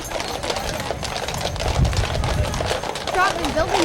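Rhythmic hoof clip-clops of two horses on pavement in a small-town heritage days parade, moderately close, mixed with crowd chatter and street noise.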